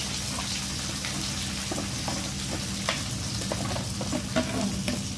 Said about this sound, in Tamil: ஆட் பண்ணிவிட்டு அதில் அந்த கொஞ்சம் எண்ணெய் பிரிஞ்சு வர ஸ்டேஜ் வரணும்ல, அது வரைக்கும் நம்ம சாட்டே பண்ண போகிறோம்